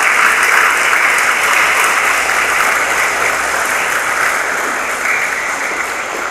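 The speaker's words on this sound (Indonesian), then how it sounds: "Mari kita semua tepuk tangan untuk para orang tua hebat ini" A university graduation audience at UNLESA applauding the graduates' parents, loud, dense, continuous clapping filling the hall and easing slightly toward the end.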